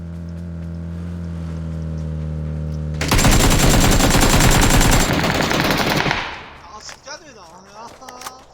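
Rapid automatic gunfire in PUBG erupts for about three seconds at close range, loud and dense, then cuts to scattered softer shots. A tonal hum fills the opening.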